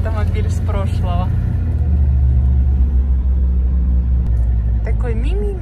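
Low, steady engine rumble from a 1965 ZAZ-965 Zaporozhets humpback car driving slowly at about 20 km/h through evening Kyiv, droning continuously inside the cabin while people talk over it at the start and end.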